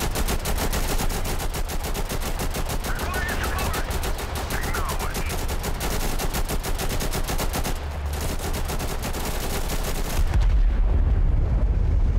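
Relentless rapid gunfire in the video game Total Conflict: Resistance, a dense steady stream of close shots, ending in a deep low rumble of an airstrike explosion.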